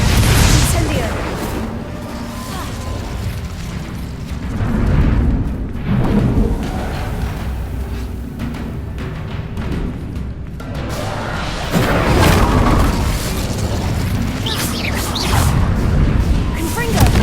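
Incendio fire spells cast in the video game Hogwarts Legacy: heavy, fiery whooshing booms in repeated bursts, loud and close, with rumbling mechanical game noise and voices in between.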